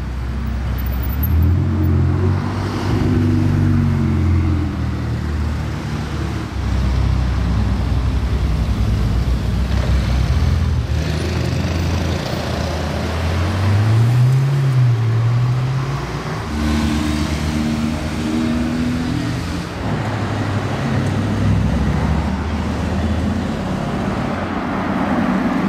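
A Porsche Turbo sports car drives past on the streets of Monaco, its engine note rising and falling as it passes close by, with continuous traffic noise around it.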